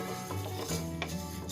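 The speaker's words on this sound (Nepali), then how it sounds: "यो चाहिँ मैले 1 मिनेटसम्म एकदम लो फ्लेममा भुट्दैछु।" Spices for a bamboo shoot pickle fry in a pan over a low gas flame, giving a soft, steady sizzle with faint scraping as they are stirred, close and unbroken throughout the brief moment.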